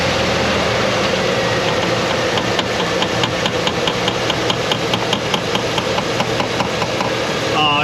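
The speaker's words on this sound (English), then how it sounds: "Begin starting the engine now, please, sir." 2005 Chevrolet Silverado with a 6.0 LQ9 V8 running steadily, a loud, dense mechanical roar with rapid ticking and clatter, heard close up and without talk.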